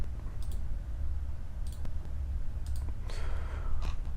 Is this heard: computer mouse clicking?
yes